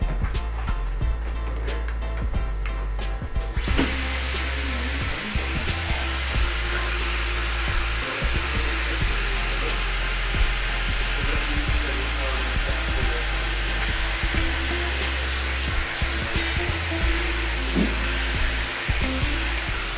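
A Dyson Airwrap hair styler blows on curly hair. After a few seconds of low background noise it switches on to a loud, steady whirring airflow with a high whine, and a voice is heard faintly beneath it.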